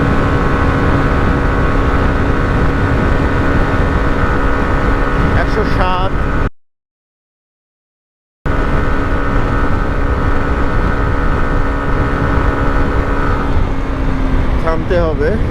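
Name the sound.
Hero Xtreme 125R motorcycle engine at top speed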